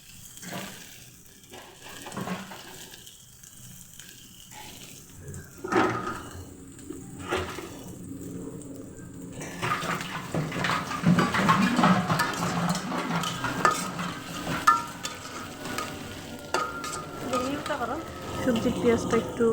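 Onion dropped into hot oil already spiced with cardamom and cinnamon in a pan, a soft sizzle that swells into a steady crackling hiss with light utensil clinks, while someone talks over it.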